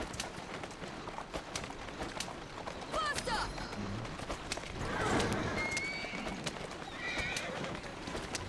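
Hooves of a carriage horse in Assassin's Creed Syndicate clip-clop in a steady rapid rhythm, with a whinny breaking through and street ambience around, while a voice talks over the scene.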